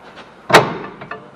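A ball joint on a Ford Taurus front axle pops back into place during a hub replacement, one sharp, close metallic knock followed by a couple of fainter clunks.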